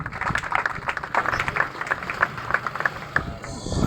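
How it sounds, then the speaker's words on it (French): Audience at a memorial ceremony clapping in a scattered, uneven rhythm, moderately loud and close, with a few voices mixed in among the claps. "Acclamons pour l'encourager, s'il vous plaît."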